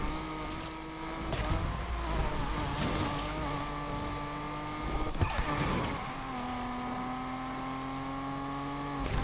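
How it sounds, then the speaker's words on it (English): A 1999 Mitsubishi Eclipse GSX in Need for Speed Unbound, pulling the e-brake into skids: engine drone with shifting revs under sustained tire squeals, with louder bursts of screeching around the middle. "Sometimes you just gotta pull that e-brake."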